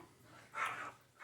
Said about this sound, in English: Dogs are funny sometimes.